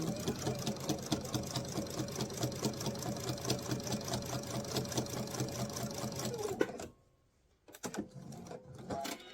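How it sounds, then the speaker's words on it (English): Sewing machine stitching binding along a diagonal line on a travel pouch, a fast, even mechanical chatter running steadily for several seconds before stopping abruptly, then a few short bursts of stitching. "we're going to sew across that diagonal line"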